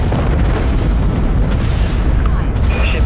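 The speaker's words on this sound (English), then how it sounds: "Activating primary weapons, Captain." Primary weapons fire in a Dreadnought big-ship space battle game, loud booming blasts and rumbling explosions layered over a constant dense roar of combat noise.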